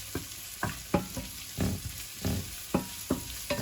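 Chopped onions frying and sizzling in a pan for a Spanish albondigas garlic tomato sauce, with a steady hiss broken by repeated scraping stirs at a roughly even rhythm, close and moderately loud, no talking.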